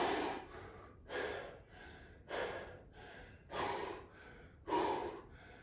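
Deep, forceful breaths come in a steady rhythm, about five hard exhalations with softer inhales between, close to the microphone during a kettlebell core workout.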